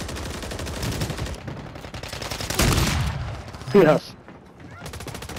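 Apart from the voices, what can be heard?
gunfire from a video game, enemy shooting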